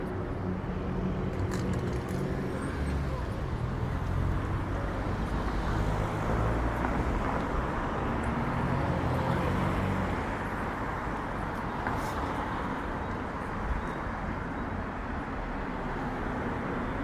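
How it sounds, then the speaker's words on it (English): A loud car roars past on a busy downtown Toronto street, its rumbling engine rising over steady traffic noise for several seconds before fading back into the roadway hum. "Very noisy ass car."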